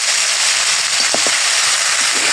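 Noodles frying in a hot pan, with a loud, steady hiss and sizzle throughout and a couple of brief crackling pops near the middle.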